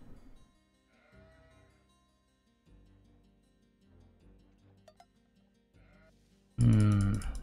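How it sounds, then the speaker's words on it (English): Sheep bleat loudly in the last second of a strategy video game match, following several seconds of quieter game sounds with a distant murmur. "look at the amount of sheep there"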